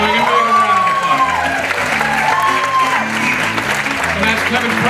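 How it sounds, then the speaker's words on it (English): An audience at an evening storytelling event gives a fiddle player a steady round of applause, with music and a voice sounding over the clapping throughout. "Give him a round of applause"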